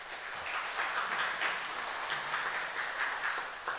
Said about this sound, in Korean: 여러분 박수로 환영해 주시고요.